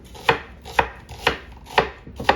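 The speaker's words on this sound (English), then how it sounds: "So we're just gonna get this onion diced up really fine" A very sharp knife dices yellow onion finely on a board, making five evenly spaced crisp chops about half a second apart, close and clear with no talk.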